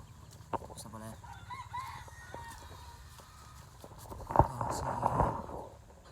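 Kelso chickens and chicks with roosters, heard as repeated clucks and a crow, moderately near, with a person talking in the background.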